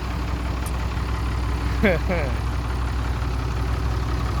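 A PC30 mini excavator's diesel engine drones steadily while loading rocks, a constant low mechanical hum up close, with brief faint chirps and people talking over it.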